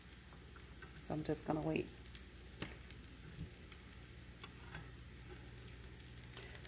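Eggs cooking in a hot pan for a country breakfast, heard as a faint steady sizzle with a few scraping sounds from stirring, under brief quiet talk.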